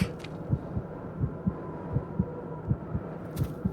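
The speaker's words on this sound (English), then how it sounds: "Our poor person's heartbeat is going faster and faster." A character's heartbeat in the video game The Cursed Forest, a steady, fast, close thumping beat over a low background drone, with a single brief noise burst near the start and another near the end.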